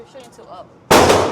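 A gunshot at a shooting range, a single sharp loud blast near the end with a rough tail, following a brief stretch of quiet talk.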